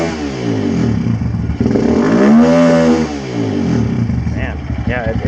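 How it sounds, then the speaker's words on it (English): Kawasaki KLX140 dirt bike single-cylinder engine, not yet fully warm and fitted with a performance CDI, revved up in a rising, falling blip at close range over a steady idle. "I'm gonna go rev it a little bit."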